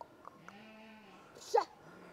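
A sheep bleats once, a short loud wavering cry near the end, after a long low tonal call and faint background sounds on a farm.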